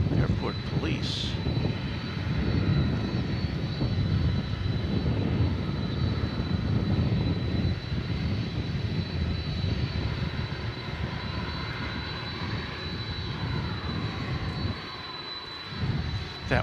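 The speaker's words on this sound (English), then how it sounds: "That whine you hear in the background is the 747 getting pushed back and warming up." Boeing 747 jet engines at DFW Airport whine steadily in the distance during pushback and warm-up, a sustained high tone over broad rumble, with voices talking faintly over it at times.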